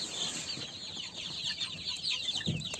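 Young Legbar chickens clucking and peeping together in a steady, busy chorus of soft bird calls, with no talking.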